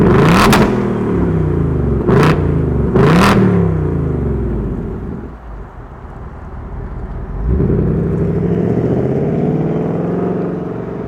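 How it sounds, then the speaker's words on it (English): A 2024 Ford Mustang GT V8 fires up and revs, with three sharp throttle blips over a deep rumbling idle, then a lull and another rising rev, loud and close. "Let's fire it up and hear this one roar."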